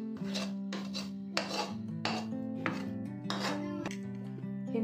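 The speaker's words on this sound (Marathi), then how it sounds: "आता हे सर्व मिश्रण ताटात ओतून घेते मी." A hot melted sesame and jaggery mixture is poured and scraped into a metal plate, giving repeated rasping scrapes in short bursts, close and fairly quiet, with a steady tonal hum underneath.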